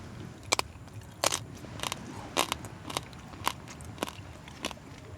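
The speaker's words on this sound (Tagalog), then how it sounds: "Malutong pa rin yung balat. Tsaka hindi makunat." Crispy roasted pig skin (lechon) is bitten and chewed at a campsite, producing a series of sharp, close crunches at a steady pace, about ten distinct bites over a quiet background.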